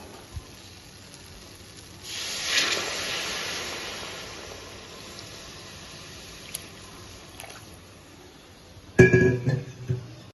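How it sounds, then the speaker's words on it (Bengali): Hot water is poured into a pan of fried, fully cooked spice paste for a cashew gravy for jackfruit kofta, giving a sudden soft hiss that swells and slowly fades, followed near the end by a brief clatter of utensils. "আর এবার আমি এর মধ্যে অল্প করে গরম জল দিয়ে দেবো।"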